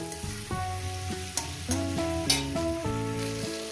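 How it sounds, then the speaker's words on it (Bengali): Brinjal and pumpkin fry in a pan for a Bengali drumstick-flower chorchori, giving a steady close sizzle with occasional stirring scrapes under background music. "এই বেগুন আর কুমড়োটাকে এইভাবে ভাজতে থাকবো"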